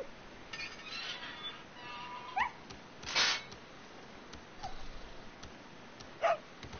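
A dog whimpers in the video game Resident Evil 4, giving a few short, thin whines spread over several seconds against a soft game ambience.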